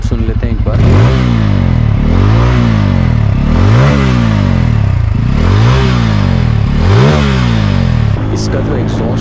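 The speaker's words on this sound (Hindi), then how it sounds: "इसका एग्जॉस्ट नोट सुन लेते हैं एक बार।" A Bajaj Pulsar N250 motorcycle revs repeatedly, its loud, close exhaust note rising and falling in about five regular blips over an idle, then settling back to a steady idle.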